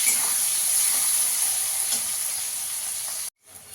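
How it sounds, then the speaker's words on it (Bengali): Chopped onion fries lightly in a pan after cumin is tempered for paneer pulao, giving a steady close-up sizzle that cuts off abruptly near the end. "পেঁয়াজটা একটু ভেজে নেবো হালকা করে।"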